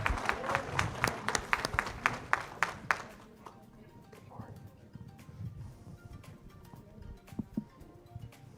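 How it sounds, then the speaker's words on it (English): Audience at a Lifestyles Canada event claps in a burst of loud, sharp applause for the first three seconds, then fades into quieter room noise with scattered voices and light movement. "let's give Sean another round of applause"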